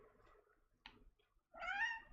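Bloom, a pet cat, gives a short chirp and then a louder, drawn-out meow, close and alone in a quiet room.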